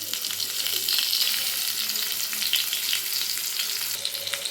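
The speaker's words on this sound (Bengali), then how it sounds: "এবার আমি এক এক করে সব পটলগুলো ভেজে নেব।" Pointed gourd (potol) frying in hot oil, a loud, dense crackling sizzle that runs unbroken with light stirring, no speech.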